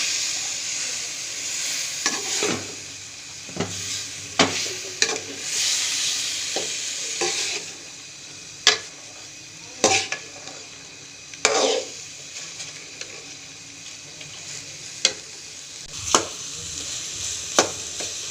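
Chicken for shawarma frying in a pan while a spoon stirs it, a steady close sizzle broken by repeated sharp scrapes and clacks of the spoon against the pan, with no talking.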